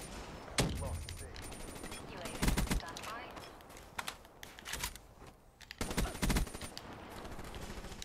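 Automatic gunfire from a machine gun in the Black Ops 3 video game, Domination mode on the Infection map, rattling out in several loud bursts with quieter shots and game noise between them.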